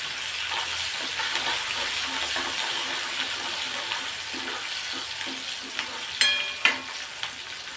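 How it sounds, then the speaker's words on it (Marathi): Onions with curry leaves sizzling and crackling steadily in a hot pan nearby, with occasional scraping stirs and a couple of sharp clinks toward the end. "कांदा थोडासा आपण परतून घेणार आहोत"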